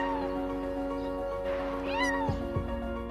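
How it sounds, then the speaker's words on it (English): A frightened kitten crying from inside a car's engine compartment, several loud close meows with a rising, wavering pitch over a steady low hum. "the man heard the cry of the little kitten and decided to find the poor kid"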